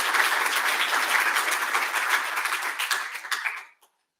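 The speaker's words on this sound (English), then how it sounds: "Big applause for the 3 panel members." Audience at an education conference panel debate applauds, a dense wash of many hands clapping fairly loudly, then thinning and fading out to silence near the end.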